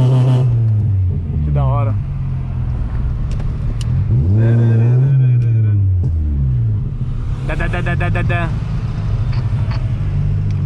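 A car engine revs repeatedly with exhaust pops and crackles on the lift-off, loud and close, while someone speaks excitedly over the rumble.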